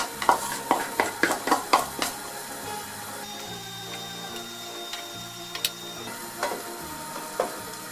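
Chicken and onions sauté in a hot pan with a soft steady hiss, broken by a quick run of sharp taps and clicks, then scattered clinks.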